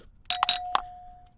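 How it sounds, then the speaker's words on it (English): Electromechanical chime module from a 1986-1991 Cadillac Eldorado or Seville, striking a few quick metallic dings that leave one clear tone ringing on and slowly fading, close and fairly quiet. "These cars actually use a real chime."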